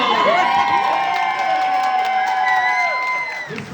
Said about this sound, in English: Can we have a round of applause for Nando?